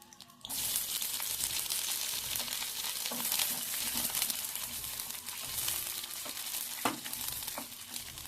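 Grated coconut hits hot oil in a pan for chicken gravy, setting off a steady, loud sizzle that holds for several seconds with occasional stirring scrapes and clinks, no talking.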